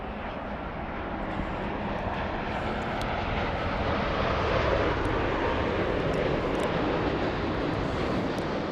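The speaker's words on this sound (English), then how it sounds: "We have Japan Airlines flying in from Osaka" A Japan Airlines airliner arriving from Osaka makes a broad, steady engine roar that builds slightly louder as it approaches, heard alone without voices.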